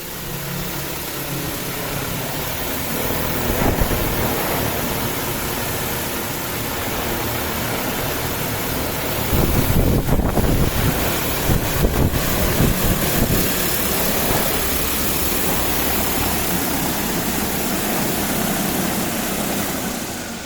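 A DJI T50 agricultural spraying drone comes in to land, its motors and rotors producing a loud continuous roaring whir and rotor wind. The sound swells around mid-clip as it nears the ground, then holds steady.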